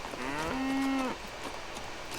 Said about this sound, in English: Moo cows.